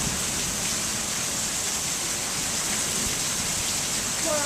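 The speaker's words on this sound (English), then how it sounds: "What a great storm." Heavy storm rain in Goodyear, Arizona pours down in a steady, dense hiss that fills the whole clip, continuous and close with no breaks.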